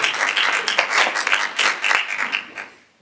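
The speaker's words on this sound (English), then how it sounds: "give Mary a massive round of applause." An audience bursts into applause after a magic and mystery stage demonstration, a dense round of clapping that swells and fades over a few seconds.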